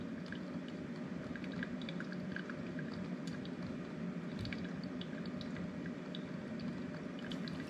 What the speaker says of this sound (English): the coffee maker is dripping